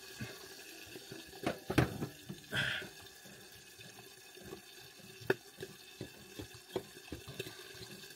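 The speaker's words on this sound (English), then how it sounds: "Boiling water in." Boiling water pours from a kettle in an uneven stream with soft splashing and a few sharp clinks and knocks of the kettle and pot inside a VW T5 camper van, close by with no talking.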